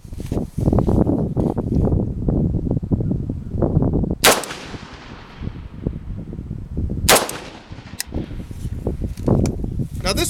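An AK-pattern rifle fitted with a VEPR muzzle brake fires two sharp, very loud shots a few seconds apart outdoors, with voices and handling noise around them.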